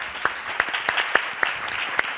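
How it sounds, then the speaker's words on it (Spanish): A handful of scattered, distinct claps ring out at an irregular rhythm, roughly seven sharp hits in two seconds, from the audience at a science outreach event held by a Spanish public broadcaster. "Este aplauso es para todos vosotros."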